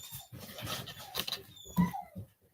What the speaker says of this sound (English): My dogs are whining.